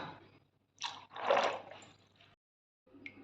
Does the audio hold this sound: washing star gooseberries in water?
yes